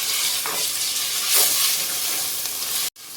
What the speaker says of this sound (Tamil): ஒரு கைப்பிடி கொத்தமல்லி இலை, இதையும் போட்டு நல்லா வதக்கி எடுத்துக்கலாங்க